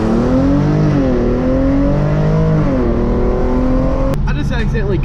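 A Hyundai Genesis Coupe 3.8 V6 with ARK downpipes accelerates hard in first gear with traction and stability control off. The engine note climbs loudly and steadily from inside the car, then cuts abruptly near the end with a sharp pop.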